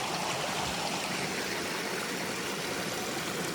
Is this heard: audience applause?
no